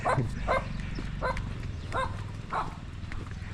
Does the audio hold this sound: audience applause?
no